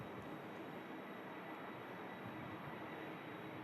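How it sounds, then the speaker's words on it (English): Singapore Airlines airliner departing Manchester Airport, a steady broadband jet engine roar heard from a distance, continuous and fairly faint, with no talking. "Here we go. Singapore Airlines number 2 of today. Heading back to Singapore."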